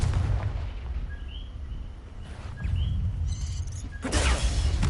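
A Confringo blasting spell cast in a Harry Potter video game, a rumbling fiery burst rising to a louder crackling blast near the end over a steady low game ambience, with faint bird-like chirps.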